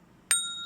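A bright bell ding plays once for a subscribe bell button, a single clear metallic strike with a ringing tone that lingers and fades.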